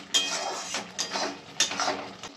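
A spoon scraping and clinking against a cooking pot while milk is stirred, several irregular metallic strokes close by, with no talking.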